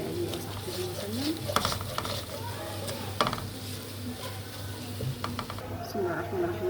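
Chicken and onions are stirred and toasted in a pan, a steady frying sizzle broken by scraping and clanks of the utensil against the pan, close by and fairly loud.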